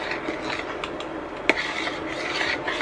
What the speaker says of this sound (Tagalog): Ilalagay na natin yung mais. And hahaluin lang natin siya.